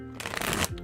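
A single close riffle shuffle of a tarot deck, a dense rapid flutter of cards lasting about half a second and ending abruptly, with soft handling noise around it.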